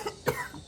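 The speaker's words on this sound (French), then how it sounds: "Mais ta tousse, il ne finit jamais. Tous les jours, tu tousses." A single short, soft cough, close by, with faint room noise around it.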